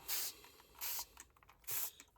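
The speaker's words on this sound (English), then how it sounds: "Spray everything down with coffee." A hand-pumped spray bottle of coffee mists paper craft pages with three separate bursts of hiss, each about half a second long. Quiet pauses fall between the bursts.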